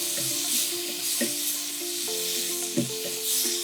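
Masala being sautéed in a pan with a splash of water for a Sri Lankan nanas dish, a steady close sizzle with scattered spatula scrapes and taps, no talking.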